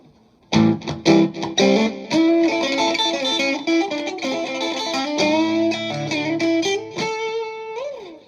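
Distorted electric guitar through an analog distortion pedal plays a run of chords and notes, loud and close, ending on a sustained bent note.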